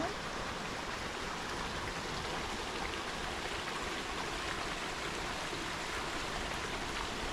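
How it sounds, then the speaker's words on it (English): Small stream cascades in a state park forest, a steady close rushing and burbling of water that fills the whole stretch at an even level, with no talking over it. "Little cascades here. Flowing on down."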